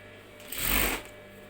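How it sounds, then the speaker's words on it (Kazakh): A sewing machine stitches a folded 1 cm hem in one short, close burst of rapid whirring that rises and fades within about a second over a quiet background. "Енді 1 см-дей қайырып тігеміз."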